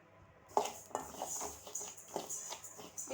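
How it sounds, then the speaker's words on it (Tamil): Mustard seeds roast on a low flame in a pan for mango pickle, giving faint, scattered crackles and light metallic ticks at close range with no talking. "பாருங்கள், கடுகு நல்லா கலர் சேஞ்ச் ஆகி நல்லா படன்னு வெடித்து வருது பாருங்கள்"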